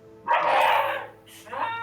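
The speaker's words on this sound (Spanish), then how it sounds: "¿Solo porque lo han cogido grita así?" A dog yelps in Hogwarts Legacy: one loud, drawn-out, strained cry, then a shorter second yelp after a brief dip.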